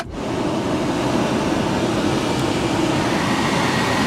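A 2010 Volkswagen Jetta SportWagen's climate control fan blasts at high speed, a loud, steady broadband whoosh of rushing air that swells in quickly and holds constant inside the car.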